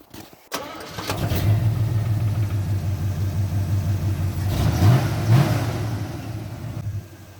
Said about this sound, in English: So let's fire this truck up and see if this plow will move.